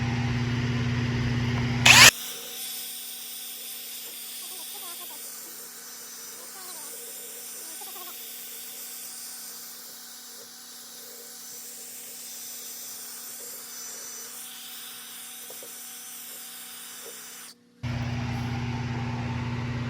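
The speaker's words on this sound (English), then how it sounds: "Because I'm stripping with this wire thing." A power tool fitted with a wire brush strips old finish from an antique vanity. It gives a steady, muted whirring hum with faint scratching for most of the clip, framed by louder bursts at the start and end.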